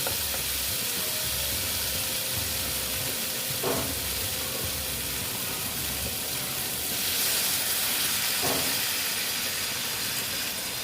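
Water poured into a pan of koi fish curry with potato and cauliflower brings a loud, steady hiss and sizzle that carries on without pause, close up, with no talk.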